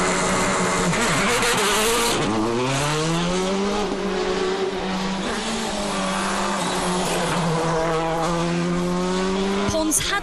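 A 2006 WRC rally car on the Penitenzier stage of the Tour de Corse, its engine loud and close, revving and shifting through gears with rising and falling pitch.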